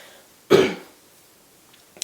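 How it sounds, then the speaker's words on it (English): One short, sharp cough or throat clear comes from a nearby person in a quiet room, followed by a fainter small throat noise about a second and a half later. "I'm coughing and burping a lot on this one"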